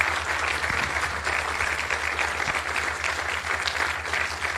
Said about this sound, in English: give a round of applause to Paulina Samudio